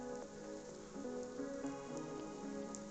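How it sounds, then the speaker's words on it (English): Rain falling outside, a soft continuous patter with scattered faint drips, heard alone over a low steady background with some tonal hum. "Oh, looks like it's raining outside."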